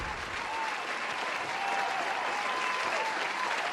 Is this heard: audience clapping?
yes